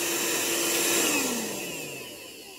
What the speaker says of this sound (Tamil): இப்போ வந்து நம்ம மை டிவிஎஸ் வேக்கம் க்ளீனரே ஆன் பண்ணிட்டு ஆன் ஆகிட்டு